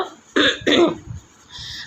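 Two sharp coughs in quick succession, close to the mic, followed by a softer throaty rasp.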